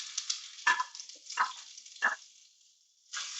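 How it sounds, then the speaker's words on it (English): Onion sautéing in oil in a cooking vessel for Goan green chicken curry, a steady close hiss broken by a few louder sizzling bursts as pieces are stirred or added. "add oil to this in order to saute the onion"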